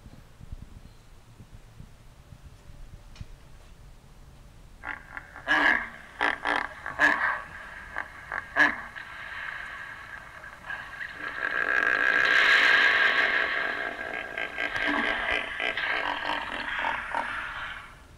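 A few sharp clicks, then a hippopotamus call, a deep, breathy grunting roar played back through a speaker, swelling and fading over several seconds.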